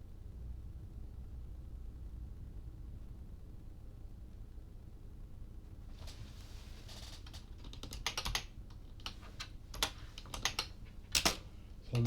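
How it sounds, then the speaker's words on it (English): Computer keyboard typing begins after several seconds of quiet room hiss, quick irregular clicks and key taps, close and fairly faint, with a few sharper bursts near the end. "So I'm typing it out."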